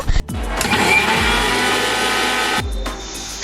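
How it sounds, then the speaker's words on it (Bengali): Mixer grinder whirring steadily as it grinds semolina to a fine powder for an eggless mango cake, a loud continuous motor hum with a brief stop near the start and a change in pitch toward the end. "সবার ফার্স্টে আমরা সুজিটাকে একদম মিহিভাবে গুঁড়ো করে নেব"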